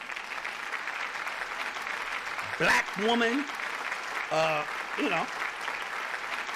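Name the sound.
applause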